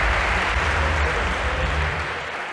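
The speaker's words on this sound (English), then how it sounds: "a round of applause nonetheless" Lecture-hall audience applause after a demonstration, a dense, steady wash of many hands clapping at moderate volume that tapers slightly toward the end.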